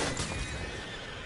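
Horses in a video game whinny beside a burning wagon, a loud, strained neigh close by with crackling noise underneath.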